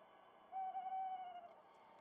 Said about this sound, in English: What are those sounds? Owls?